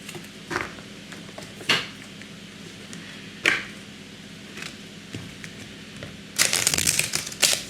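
Oracle cards being shuffled in short, crisp riffling bursts, several sparse flicks early on and then a louder, denser shuffle near the end, close by and with no one talking.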